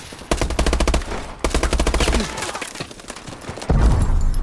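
Call of Duty Advanced Warfare gunfire: two loud rapid automatic bursts in quick succession, then scattered shots and a heavy final blast, close and sharp.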